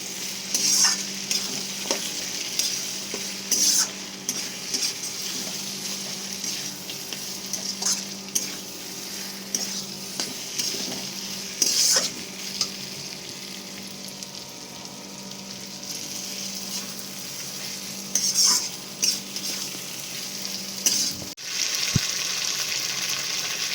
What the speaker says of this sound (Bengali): এই সময় গ্যাসের ফ্লেমটা কিন্তু হাই রাখবো আর ভালো করে এটা নামিয়ে কষিয়ে নেবো